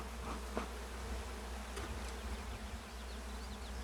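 A dense, steady hum of many honey bees buzzing close by in a backyard hive, with individual insects droning past over the continuous swarm.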